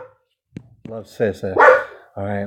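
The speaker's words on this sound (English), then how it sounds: "that's a dog barking." A dog barks several times in short close yips and woofs, mixed with a person talking.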